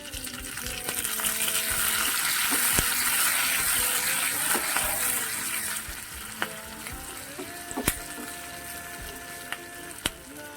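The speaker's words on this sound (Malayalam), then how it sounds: "ഏതാണ്ട് വറ്റൽമുളക് കൂടി ചേർത്ത് കറിവേപ്പില ചേർത്ത് കൊടുക്കാം" Dried red chillies and curry leaves sizzle steadily in hot oil as a tempering for a tomato and dal curry, with a bright continuous crackle and a few sharp spoon clicks against the pan near the end.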